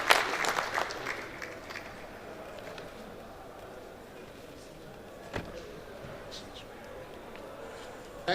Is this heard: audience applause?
yes